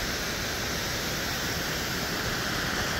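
A waterfall beside a local dam roars as a dense, steady, loud rush of falling water, constant throughout with no voices.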